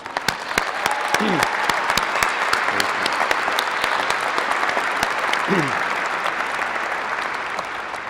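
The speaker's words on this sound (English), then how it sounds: "another round of applause" Sustained audience applause fills a graduation ceremony hall for the class of 2016, dense steady clapping from a large crowd throughout, with a few short voice sounds briefly rising above it.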